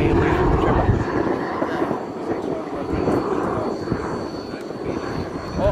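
Turbine engine of a Freewing B-2 RC jet model whines and roars steadily at close range, a dense broadband rush running through the whole stretch while people talk over it.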